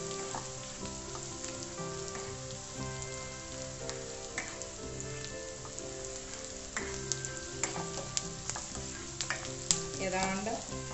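Beef curry ingredients sauté in a hot pan, a continuous sizzle and frying crackle with occasional stirring scrapes, moderately quiet and close, with no voices.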